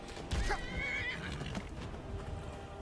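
A wild horse in the game Skyrim gives a loud, close whinny over light hoof clip-clop and background game ambience.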